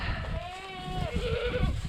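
Goats bleating on a dairy farm during watering, several wavering cries overlapping at moderate distance over steady low farmyard rumble.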